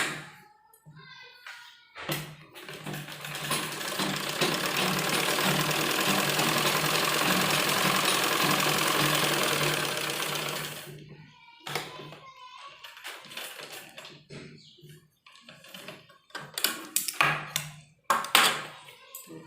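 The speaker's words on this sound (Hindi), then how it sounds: "और दोबारा फिर हम इसमें सिलाई लगाएंगे, डबल सिलाई करेंगे।" A sewing machine double-stitching men's underwear fabric runs in one steady, close, whirring burst of about nine seconds. It is followed by short stop-start runs, handling clicks and quiet talk.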